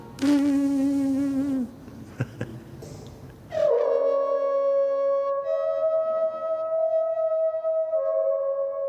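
A horn player buzzes his lips to imitate a mosquito, first a steady nasal whine, then a sustained brassy horn tone from a Vosges cor held for several seconds.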